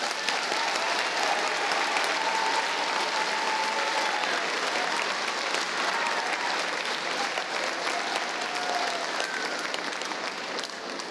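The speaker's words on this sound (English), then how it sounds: "And one more big round of applause for congratulations for our 8th graders." Steady, sustained audience applause fills a school gym or auditorium at an 8th grade middle school graduation ceremony, dense and even throughout with no break.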